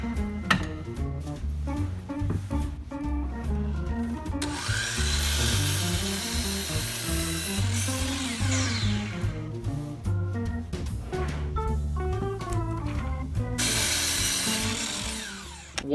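Walnut offcuts are cut to equal length with a power tool, sustained loud whining and grinding bursts close up, alternating with tonal, machine-driven passages and stretches of background music, no voices.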